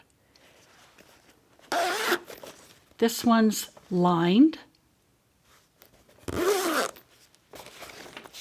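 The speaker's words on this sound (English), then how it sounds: "A zipper at the top." The zipper along the top of a shaped rectangular crossbody bag is pulled in two short, rasping bursts, with a person talking between them.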